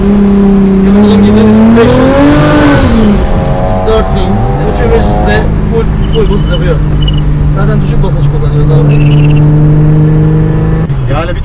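A turbocharged, modified BMW E36 M3 engine runs up close, rising in a sharp rev that peaks and falls back to a deep, steady idle rumble lasting several more seconds.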